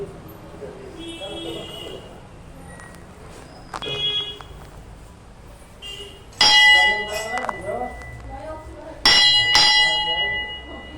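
A metal temple bell rings in sharp, resonant strikes, a few widely spaced clangs that ring out and decay, with people talking in between.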